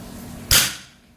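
A single sharp PCP air pistol shot cracks once, loud and close, with a brief fading tail over quiet background.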